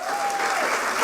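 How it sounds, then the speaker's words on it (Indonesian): A church congregation at a Sunday worship service in Batam applauds, a brief burst of dense crowd clapping with a faint sustained tone running through it. "Beri tepuk tangan dulu."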